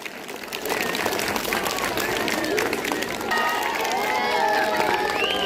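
Audience at a school annual day and result declaration ceremony applauds a student, loud dense clapping from a large crowd with cheering and chatter mixed in, rising after a brief quieter start.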